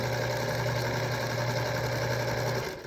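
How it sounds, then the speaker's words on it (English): Sewing machine running steadily for a quarter-inch seam while chain piecing fabric, a close, continuous motor hum with a fast stitching rhythm that holds level for nearly three seconds before winding down. "I'm going to sew them with my 1/4-inch seam."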